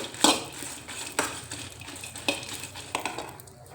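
Green chillies roast in a little oil in a pan while a utensil stirs them, giving several sharp scraping clinks against the metal over a faint steady background, with no talking.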